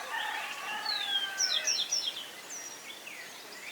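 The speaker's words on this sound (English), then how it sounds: "The mornings here are very peaceful with lots of rooster noises." Roosters and other birds call in a peaceful morning setting near a volcano viewpoint, with several short, bright chirps and calls at moderate distance over a quiet background and no talking.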